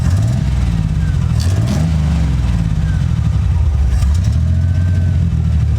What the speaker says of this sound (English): It's running off the carburetor.